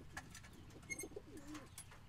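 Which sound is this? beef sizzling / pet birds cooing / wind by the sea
pet birds cooing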